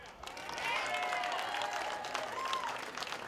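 Audience applauding labor leader Rich Trumka at a steelworkers' event, a swelling round of clapping with some cheers and whistles rising over the crowd.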